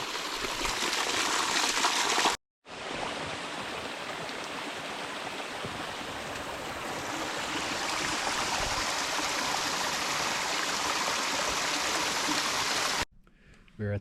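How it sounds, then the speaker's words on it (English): Water running down a rocky hiking trail in the White Mountains like a small waterfall, a steady close rushing and splashing wash that continues almost throughout with a brief break. "it's a little bit of a waterfall."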